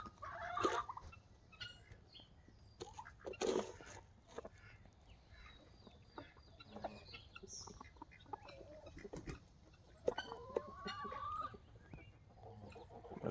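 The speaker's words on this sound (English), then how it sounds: "checking out some chickens here?" Chickens cluck in scattered, faint bursts and short calls, with intermittent knocks and rustling in a quiet outdoor setting.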